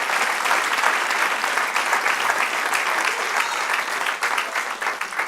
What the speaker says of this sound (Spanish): Dar un aplauso al Señor.